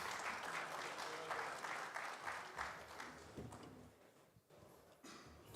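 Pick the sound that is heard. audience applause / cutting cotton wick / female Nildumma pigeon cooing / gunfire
audience applause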